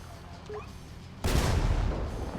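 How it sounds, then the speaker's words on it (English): Explosions at a house fire in the video game GTA V with the LSPDFR mod: a sudden loud, rumbling blast cuts in midway and keeps roaring over a low background. "We got explosions here."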